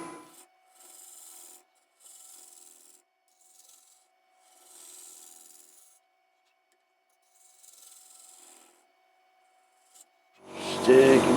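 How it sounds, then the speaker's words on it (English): A negative rake scraper shaves the inside of a wooden box lid spinning on a lathe, giving several separate bursts of soft hissing scraping with pauses between them, then a louder rougher rasp at the end. "all I'm using is a negative rake scraper just to bring this out a wee bit."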